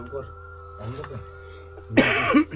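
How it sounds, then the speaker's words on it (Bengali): A person coughs sharply once near the end, after quieter throat sounds over a steady low hum. "আমাদের ঢুকতে কাশি পেয়ে যাচ্ছে"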